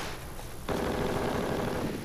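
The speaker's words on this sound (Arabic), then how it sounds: "هذا كلاش" Kalashnikov rifle gunfire in an Algerian action film set during the 1990s terrorism years: a sudden loud, sustained automatic burst that starts abruptly after a quiet moment and keeps rattling densely to the end.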